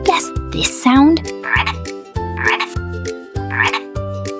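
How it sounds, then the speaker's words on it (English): Frog croaking in short repeated bursts, loud and close, over a bouncy musical backing. "Frog!"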